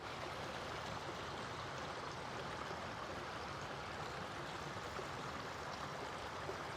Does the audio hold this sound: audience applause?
no